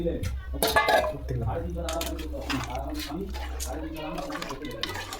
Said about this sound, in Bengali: এই দেখুন কুমড়োগুলো ঢেলে দিচ্ছি